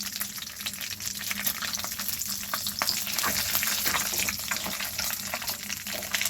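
Bay leaves sizzle and crackle in hot oil left over from frying chicken pieces, a steady close frying hiss with scattered pops and stirring, no talking.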